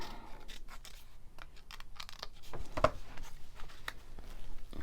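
Scissors snipping through lace for a junk journal envelope project, a series of close, crisp irregular cuts with one sharper snip partway through.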